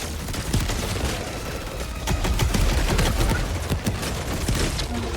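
Dense battlefield gunfire and explosive bursts from a rocket sentry in Helldivers 2, loud and continuous with sharp blasts punching through a steady rattle of shots.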